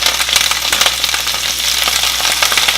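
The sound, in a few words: romaine lettuce sauteing in a pan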